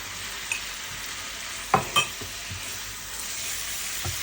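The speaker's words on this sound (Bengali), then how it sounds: "আমার মশলাটা ভাজা হয়ে গেছে, কি সুন্দর একটা গন্ধ বেরোচ্ছে বন্ধুরা।" A spice masala of ginger-garlic paste, turmeric, curry powder, cumin and coriander fries in a pan with a soft, steady hiss, broken by a few sharp spatula scrapes and clicks from stirring.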